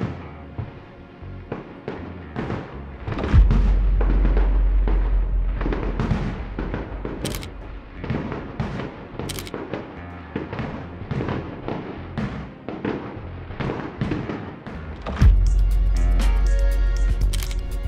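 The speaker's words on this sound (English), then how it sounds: "It was gonna be fireworks." Fireworks show in the sky, seen from the street in Norway: a steady barrage of booming bursts and crackling pops, loud and continuous, with heavier deep thumps rising at two points.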